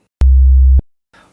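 A pure sine-wave test tone sounds loud and steady for about half a second, starting and stopping abruptly, followed by a faint trailing noise.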